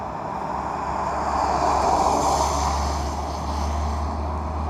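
A logging truck rolls past on a road near Raymond, Washington, a deep, broad engine and road roar that swells to a peak midway and then eases slightly as it moves on.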